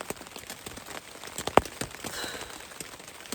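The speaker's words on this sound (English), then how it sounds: "as water hits the outside of the tent, it's like it splatters a little bit on the inside" Rain patters on a tent during a wet mountain-to-sea trail hike, a close, irregular stream of drops with one sharp louder tap midway.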